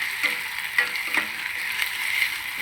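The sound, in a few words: green chillies and onions frying in tempering while stirring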